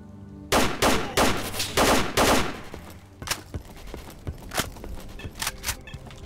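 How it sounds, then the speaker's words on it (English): Gunfire aimed at the player in the game STALKER: Call of Pripyat, with several loud bursts in quick succession early on, followed by scattered sharper shots and faint footsteps. "I'm being shot at by something."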